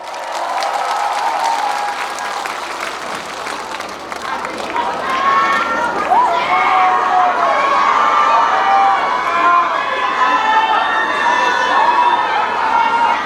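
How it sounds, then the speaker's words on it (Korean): An outdoor festival concert audience applauds and cheers loudly and continuously. Scattered voices and shouts rise from the crowd, and musical tones enter partway through. "박수 많이 주세요."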